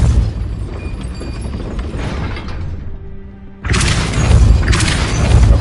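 A Depulso force spell cast in Hogwarts Legacy, a sudden loud magical blast that bursts in after a brief lull, with a heavy booming impact and crashing debris. The burst stays dense and close through the end.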